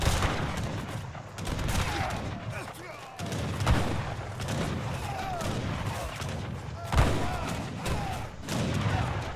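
Video game dragoons firing in a tournament match: bursts of gunfire crackle and boom in irregular volleys, with a voice talking over the shooting.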